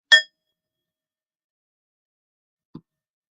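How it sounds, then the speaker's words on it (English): A small bell is struck once during a candle-lighting grief ritual, giving a single bright, clear ding that decays quickly into silence, followed by a faint soft tap near the end. "ringing the bell after each candle"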